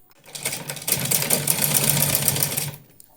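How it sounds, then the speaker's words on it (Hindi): Sewing machine running steadily as it stitches folded cloth for a small dress, a close continuous whirring chatter that starts up, holds for about two seconds and winds down, with no talking. "तो मैं इसको स्टिच करके आपको दिखाती हूँ।"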